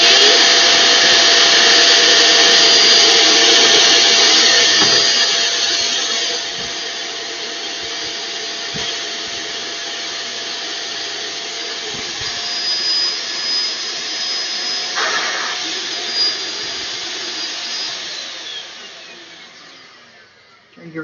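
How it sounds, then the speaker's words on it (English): A loud vacuum cleaner roars with a high whine, then its pitch and strain shift as it sucks air out of a vacuum storage bag, fading down near the end. "Turn your vacuum cleaner on."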